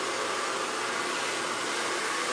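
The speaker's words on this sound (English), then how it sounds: "I use my blow dryer a lot." A handheld blow dryer runs steadily with a loud, even broadband whoosh throughout, close by and uninterrupted, during wig styling with a round brush.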